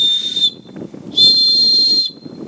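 A small whistle blown in two piercing blasts, a short one then a longer one, loud and close.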